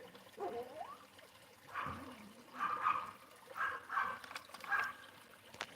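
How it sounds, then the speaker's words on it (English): Dogs bark several times in the background, short spaced yelps at moderate distance repeating in a loose rhythm, with faint ambient noise between them. "we're just gonna move over here where there's less barking too"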